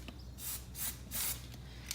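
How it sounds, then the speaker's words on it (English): Pro Clean clear chain lube sprayed onto a still-warm Suzuki SV1000 motorcycle chain, heard as three short, soft hissing bursts close by with quiet gaps between and no talking. "It's always best to spray your chain while it's still warm, that way it bites into it."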